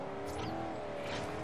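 A race car in the Forza Horizon game holds a steady, droning engine note with tire squeal at a moderate level, and no one talks over it.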